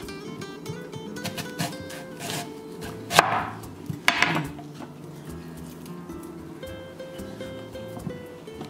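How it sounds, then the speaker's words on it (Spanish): A knife cuts an onion into rings on a board, making soft, irregular taps and crisp slicing crunches, with two sharper cuts standing out midway through the quiet clip. "Vamos a partir esta cebolla, para echarle unas rueditas de cebolla."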